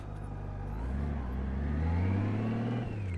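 Honda Goldwing motorcycle engine pulling through a tight turn in a parking lot, a close mid-pitched drone that rises steadily in pitch and loudness as the throttle opens.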